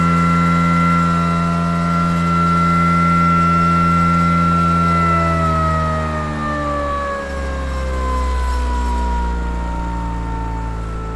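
An axial flux pulse motor running at full power near 5,000 RPM gives a loud, steady harmonic whine that holds, then sags slightly lower in pitch toward the end, with no talk.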